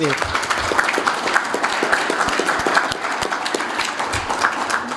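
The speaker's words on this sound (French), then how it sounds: "on va vous donner une bonne main d'applaudissement" An audience at a municipal public meeting in Edmundston gives a sustained round of applause, a thick, even patter of many hands with some voices mixed in.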